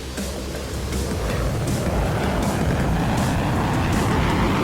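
Jet engine roar from an F-16 fighter powering up for takeoff at Greater Rockford airport in the Roblox game PTFS, a steady broad rumble with a faint rhythmic pulsing above, loud and continuous with no talk.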